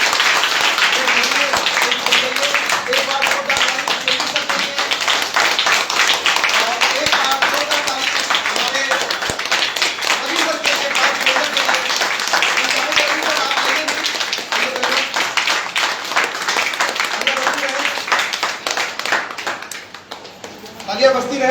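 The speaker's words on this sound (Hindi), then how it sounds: "एक बार ताली जोरदार एमडी साहब के लिए।" Loud, sustained applause from an audience at a company training program, dense rapid clapping filling the room and tapering off near the end, with cheering voices mixed in.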